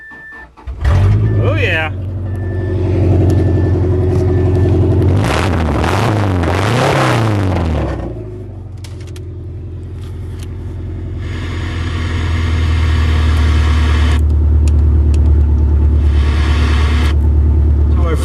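An old junkyard Subaru engine cranks, catches and settles into a steady, loud idle, with a voice talking briefly over it.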